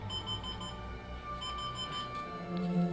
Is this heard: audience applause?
no